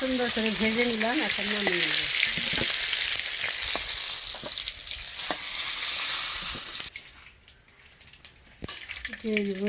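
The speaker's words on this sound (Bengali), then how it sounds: "জিরিয়া তেজপাতা পেঁয়াজ কুচি কাঁচা লঙ্কা ছিল এগুলো সুন্দর করে ভেজে নিলাম" Cumin, bay leaf, chopped onion and green chili frying in hot oil for a mango fish curry, a steady bright sizzle with brief tonal voice-like sounds early on, then cutting down to a quieter crackle near the end.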